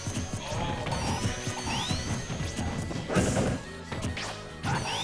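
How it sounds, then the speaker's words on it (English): Sonic's spin dash and other fighting-game effects from a Super Smash Bros. for Wii U match, a busy run of sharp whooshing revs, smacks and crashes with rising swoops, fairly quiet overall and no talk. "I think the spin dash sound effects might be one of my favorite sound effects in the game"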